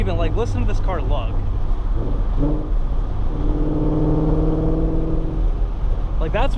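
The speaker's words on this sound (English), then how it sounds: "listen to this car lug." A Ford Mustang lugs in second gear, its exhaust putting out a low, droning rumble that swells in the middle. Someone talks over the engine at the start and again at the end.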